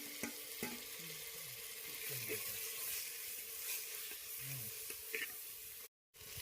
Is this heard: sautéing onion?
yes